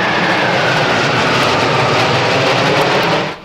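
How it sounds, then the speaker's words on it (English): A formation of Su-25 jet attack aircraft roars overhead at a Russian air force airshow, a loud, continuous, broadband jet rush that holds steady throughout. "Opening the official program was a formation of Su-25s, drawing the Russian colors in the sky"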